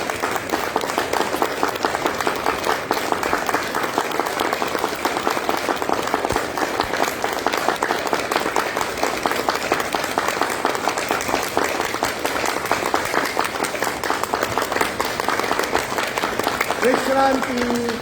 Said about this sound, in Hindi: सातवीं क्रिया, ताली बजाएंगे।